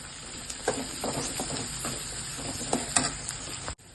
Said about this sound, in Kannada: ಇದನ್ನು ಸ್ವಲ್ಪ ಕೆಂಪಗಾಗೋವರೆಗೂ ಹುರ್ಕೊಳ್ಳೋಣ.